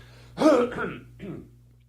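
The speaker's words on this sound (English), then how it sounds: "I got a cough." A single throaty cough followed by a lighter second rasp, close and fairly loud, with no talking.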